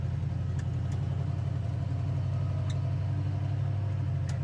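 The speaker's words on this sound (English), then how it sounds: "that dual exhaust sounds really good" A 1968 Ford Mustang V8 with dual exhaust idles and rumbles steadily at close range, a deep continuous low throb with no talking.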